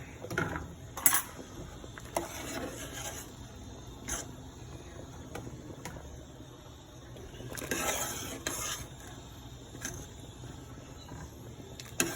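Cooked pumpkin for Jamaican pumpkin rice is lifted from a pot and mashed, giving scattered clinks and scrapes of a utensil against the pot over a low, simmering background.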